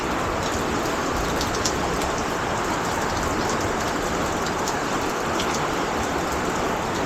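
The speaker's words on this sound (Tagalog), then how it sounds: "Ang lakas ng ulan." Heavy rain pours steadily and loudly throughout, a dense continuous wash of drops hammering a surface close by, with no voices.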